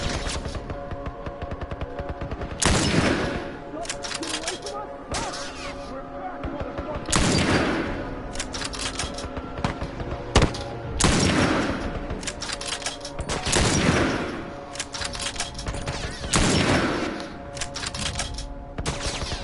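Bursts of automatic gunfire from The Last of Us video game recur every few seconds, loud and close, with rapid rattling volleys layered over steady game background noise.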